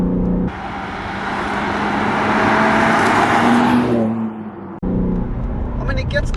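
BMW G82 M4 in M1 sport mode with chassis, engine and gearbox settings, accelerating hard under load, a loud sustained engine roar building for several seconds before easing off, with a voice talking briefly toward the end.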